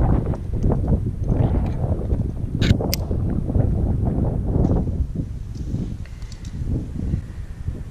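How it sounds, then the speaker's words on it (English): Steady wind gusting and buffeting a microphone at an outdoor climbing crag on the route Butcher of Baghdad, a continuous low rumble that lasts the whole stretch with no speech. "Wait till the wind stops here."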